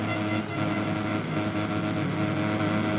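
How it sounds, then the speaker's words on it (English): Motocross bikes revving together on the start line of an MX2 race in Indonesia in the video game MXGP Pro, a dense, steady engine roar filling the whole stretch without a break. "So here's Hillman on the outside, revving it up"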